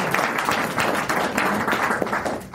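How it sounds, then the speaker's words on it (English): Conference audience applauding, a dense, steady burst of many hands clapping close by with no talk over it. "So let's give them a round of applause."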